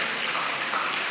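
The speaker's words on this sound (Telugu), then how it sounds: "క్లాప్స్ కొట్టండి అందరూ." A crowd of children at a Sunday gathering claps together in a dense, even patter of applause that holds steady throughout.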